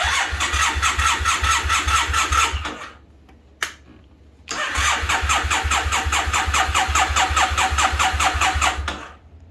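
A stock 2006 Triumph Bonneville T-100 motorcycle engine cranks and fires into a loud, even idle, cuts out briefly into near silence, then restarts and settles into a steady rhythmic idle up close.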